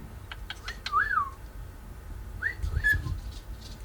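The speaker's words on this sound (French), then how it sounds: "Jasper, mon nouveau oiseau" A bird whistles a few sliding, swooping notes in two short bursts with a pause between, close and clear over a faint background.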